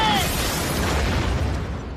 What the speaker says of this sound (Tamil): இது வெடிச்சு செதற போகுது.